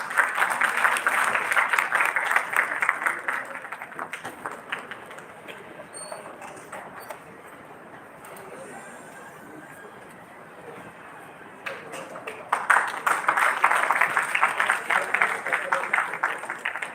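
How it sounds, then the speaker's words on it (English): An audience applauds a keynote speaker at a formal event: a burst of steady clapping fades to quiet, then a second round of applause rises again, moderately loud in a large room. "Let's give him a warm round of applause."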